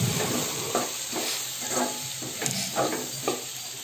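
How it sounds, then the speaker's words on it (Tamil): Two chopped tomatoes sautéing in a pan while being stirred and mixed: a soft sizzle with a series of rhythmic scraping stir strokes, moderately close, with no speech. "அடுத்து வந்து கட் பண்ணி வச்சுருக்கிற ரெண்டு தக்காளி நான் ஆட் பண்ணிக்கிறேன். போட்டு நல்லா மிக்ஸ் பண்ணி வதக்கிக்கலாம்."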